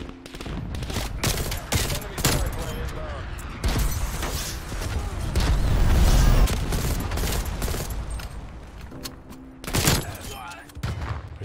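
Bursts of M16 automatic gunfire in Black Ops Cold War, loud rapid volleys repeating across the scene alongside other shots and thumps, with a voice talking over them.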